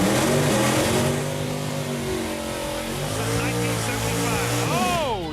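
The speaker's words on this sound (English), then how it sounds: "we'll find out after this burnout" A 2005 Ford Mustang revs hard during a burnout, its engine droning loud and steady with a rising, wavering pitch near the end, and a voice can be heard over the noise.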